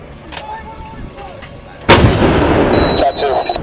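An artillery gun fires once with a sudden loud boom that rolls into a long rumbling decay, following a quieter stretch with a faint voice and background noise.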